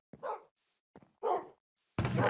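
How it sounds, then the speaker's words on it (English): Tamed Minecraft wolves in a storage room let out three short, sharp barks with brief pauses between them. The last bark is the loudest and fullest. "up here is the storage room with the dog army."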